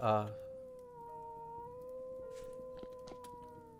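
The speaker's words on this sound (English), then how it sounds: "There's a wolf." A wolf howls in the survival game Vintage Story, a long sustained tone with a slight pitch rise partway through, steady and moderately loud after a brief voice at the start.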